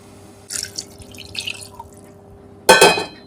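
Water is poured into a pot of chicken stew with green chillies and vegetables, making brief splashy trickles and then a louder gush near the end, close and with no talking.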